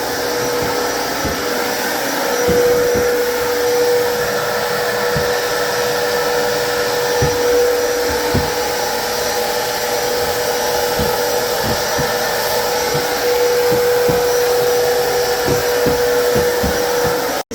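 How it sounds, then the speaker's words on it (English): A backpack vacuum cleaner with a small brush runs continuously at close range inside new kitchen cabinets during post-renovation cleaning, with a steady, loud whine and rushing air, with light knocks and bumps scattered throughout. "Now we're using the backpack vacuum with a little brush to vacuum inside the cabinets"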